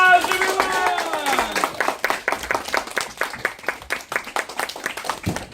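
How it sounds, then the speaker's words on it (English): Students at an elementary school American Revolution program clap for their classmates after a cheer; rhythmic, fairly close clapping begins alongside a voice, then settles into a steady, evenly paced beat. "Give them a round of applause"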